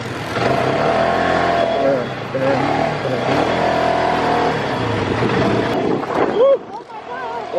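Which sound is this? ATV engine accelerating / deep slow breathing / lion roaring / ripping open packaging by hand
ATV engine accelerating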